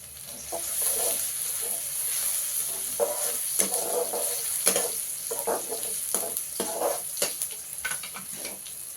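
A seasoning of spices in hot oil sizzles as a bottle gourd and dried fish mixture is poured in and stirred. Irregular bursts of crackling and sizzling mix with scraping stir strokes over a continuous hiss.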